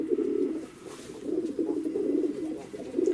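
Fighting pigeons, blue-grey rock pigeons and Yerevan breed birds in Tbilisi, coo in low, continuous rolling murmurs close by, steady and fairly loud.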